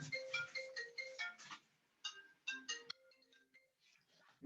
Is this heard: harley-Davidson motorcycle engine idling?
no